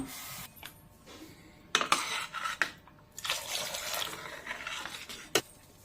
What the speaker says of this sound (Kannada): ನೀರು ಎಷ್ಟು ಬೇಕೋ ನೋಡ್ಕೊಂಡು ಹಾಕೋಣ.